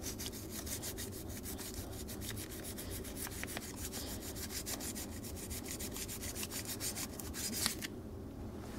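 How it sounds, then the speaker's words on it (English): Sandpaper rubbing back and forth on the plastic of a multicolored LED, a steady close scratchy scrubbing in a fast even rhythm that continues for several seconds, heard alone. "Just take the sandpaper and sand it."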